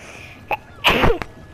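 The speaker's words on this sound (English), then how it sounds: "I'm gonna sneeze." A single close sneeze bursts out after a brief sharp intake, loud and alone, amid a gaming session.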